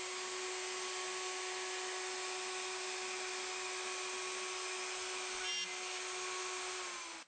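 Router plunge routing shelf pinholes in a Leigh D4R dovetail jig, a steady high-pitched motor whine that runs continuously for about seven seconds, close and alone.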